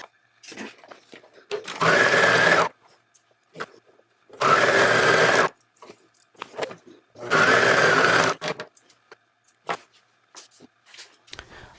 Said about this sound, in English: You can use a zigzag stitch on your regular sewing machine or an overcast stitch.